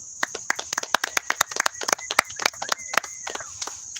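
A small audience claps for a presenter, giving a short burst of sharp, irregular hand claps lasting about four seconds with a faint tone behind them.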